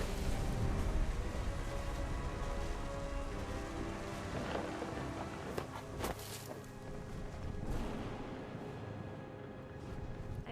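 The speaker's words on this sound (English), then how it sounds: "The thunder sounded much too close and full of angry power." Steady rain patters in a stormy scene from the video game What Remains of Edith Finch, with low rumbles of thunder rolling underneath and a few brief crackling bursts, continuous and moderately quiet throughout.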